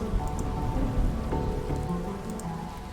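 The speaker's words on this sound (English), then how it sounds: "The hills are alive with the sound of raining." Steady rainfall pours over Castle Dooley in the video game Darkside Detective, a dense, even patter with no voices and a faint low rumble running beneath it.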